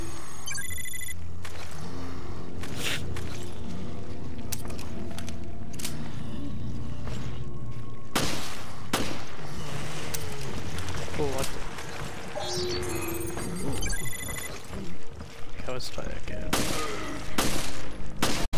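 Bursts of gunfire from Resident Evil Revelations ring out in rapid clusters of loud, sharp shots, with clanking mechanisms and game voices mixed in over a steady backdrop.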